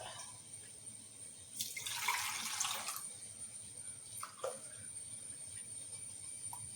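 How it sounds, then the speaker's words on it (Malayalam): Water splashes briefly into a pan in a short gush, then a smaller second pour, fairly faint and close with a steady background hiss. "ഇതുപോലെ ഒരു പാൻ എടുത്തിട്ട് നമ്മൾ ഇതുപോലെ രണ്ട് ഗ്ലാസ് വെള്ളം എടുക്കുക"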